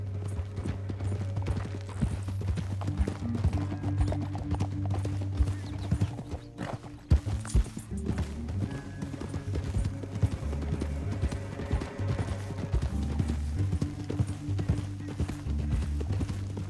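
Horse hooves clip-clop at a steady gallop in the western game Red Dead Redemption 2, loud and continuous over a music score, with a brief whinny partway through.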